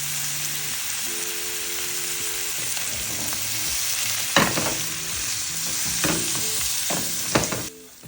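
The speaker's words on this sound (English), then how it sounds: "it's time to sear the steak" Australian Wagyu striploin steak sears in a hot pan, a loud, steady sizzle and hiss running without a break, with a few sharper spattering pops toward the end.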